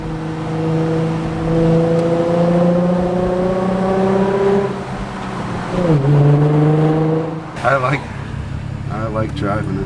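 A 2020 Kawasaki Z125 motorcycle fitted with TST Industries parts revs hard while riding through a tunnel, a loud droning engine note holding steady, dipping briefly, then surging again with rough bursts near the end.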